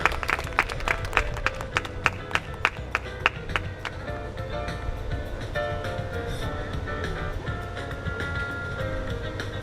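Welcoming applause at an outdoor cultural festival ceremony, opening with a burst of sharp, fairly rhythmic claps that soon thin out into a softer, murmuring background.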